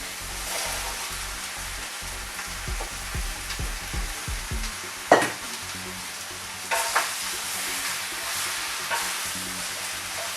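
Broccoli and cabbage hit a hot pan for a vegan stir-fry, a loud sizzle with sharp clattering tosses and a clang, continuing as a steady crackle with no talk.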